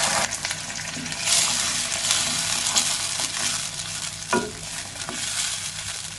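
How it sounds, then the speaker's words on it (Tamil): Chettinad kara chutney, ground sautéed chillies and spices, stirred in a pan over a low flame, giving a steady close sizzle with scraping spoon strokes and no talk. "லோ ஃப்ளேமில் வச்சுட்டு இதை நல்லா மிக்ஸ் பண்ணிக்கலாம்."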